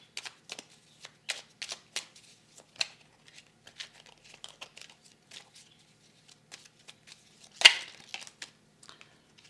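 Tarot cards being shuffled by hand, a series of quick papery riffles and slides in irregular bursts with one sharper snap near the end, close and alone without speech.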